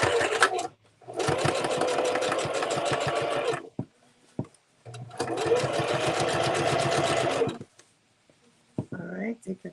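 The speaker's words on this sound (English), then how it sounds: "I'll do a little back stitch here." A sewing machine stitching through the thick looped part of a Christmas stocking, with a back stitch: two long steady bursts of rapid mechanical whirring separated by a pause, then brief starts and stops close by.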